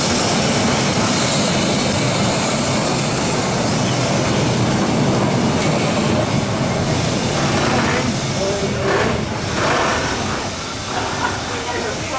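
Continuous rumble and rolling clatter of a train running on rails near Hythe in Kent, heard from inside the carriage, steady and loud throughout with a brief change in the last few seconds.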